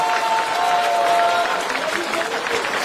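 A cricket crowd at an Asian Games quarter final between Pakistan and Hong Kong claps steadily to encourage an injured batsman, a dense, sustained wash of applause with commentary voices over it.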